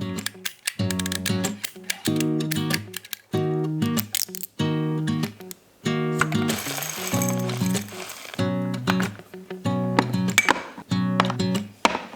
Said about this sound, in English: I'm just going to use my trusty little Dymo label maker here to do that.